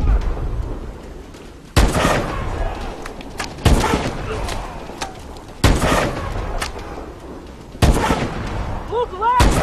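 Heavy gunfire in the video game Call of Duty: Advanced Warfare: four loud, sharp bursts land about every two seconds, each followed by rumbling echo, with voices mixed underneath.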